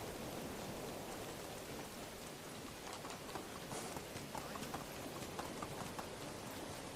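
Horse hooves plodding in the medieval life-sim game Medieval Dynasty, a soft, steady clip-clop of footfalls set against a constant hiss of rain-like ambience, fairly faint throughout.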